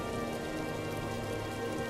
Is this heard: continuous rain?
yes